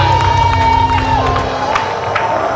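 A studio audience on a TV talk show claps and cheers loudly, a continuous lively crowd noise with whoops and shouts, while music or tones play beneath.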